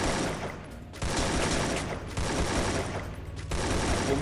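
Sustained bursts of automatic gunfire from a Free Fire battle, loud and dense, with brief pauses between volleys and no talk over it.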